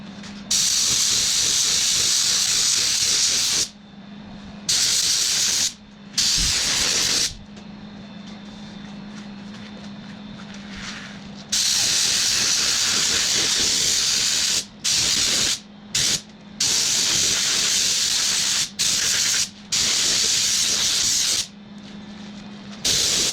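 A spray gun paints a small part in bursts, loud steady hissing that starts and stops many times, with short quiet gaps between passes.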